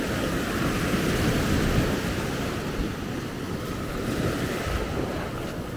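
Ocean surf rolling onto the shore at Maspalomas, Gran Canaria, during an Atlantic storm, with a continuous loud wash of breaking waves and wind rumble throughout.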